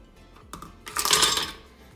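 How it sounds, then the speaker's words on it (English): Two cups of ice cubes tumble into a blender jar, a few light clinks followed by a louder clattering rush of ice against the container, brief and close with no talking. "First step, you'll need a blender, and we will put 2 cups of ice."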